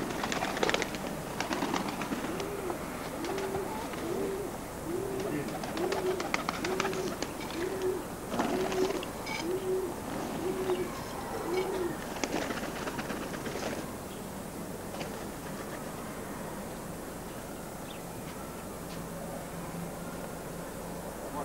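Pigeons coo in a rhythmic series of soft, repeated calls near at hand, over faint background noise and occasional scuffles, with the cooing stopping partway through.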